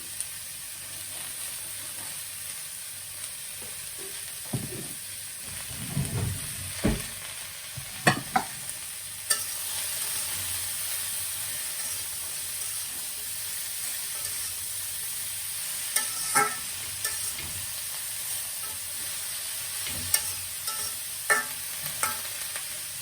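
Snake gourd with turmeric and salt fries in a pan with a steady soft sizzle and hiss, broken by scattered scraping stirs and clatters of a spatula, close and without talk.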